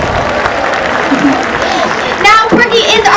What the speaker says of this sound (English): Let's give a big round of applause to Corky.